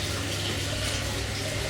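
Hot spring water pours steadily down slippery steps into a bath at a Japanese ryokan, a continuous close rushing and splashing wash with no break.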